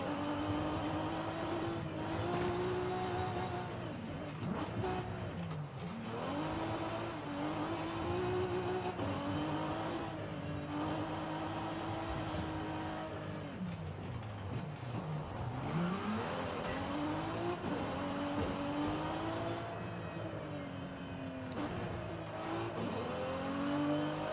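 A turbocharged racing car engine in a video game revs and shifts again and again, its pitch sweeping up and down over about twenty-four seconds, with tyre squeal and no voices.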